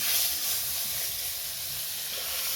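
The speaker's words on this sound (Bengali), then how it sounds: "কড়াতে সর্ষের তেল দিয়ে কালো জিরে ফোড়ন দিয়ে টমেটো কুচিগুলো দিয়ে দিলাম" Chopped tomatoes sizzle in hot mustard oil with nigella seeds in a kadai, a steady, fairly soft hissing fry that continues evenly without any voices.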